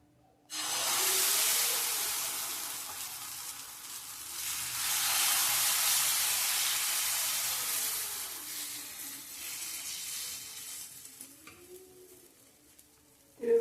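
Bajra millet chila batter poured onto an oiled pan bursts into a loud, broad sizzling hiss that holds steady for about thirteen seconds, swelling slightly midway and easing toward the end, with a faint scrape near the close.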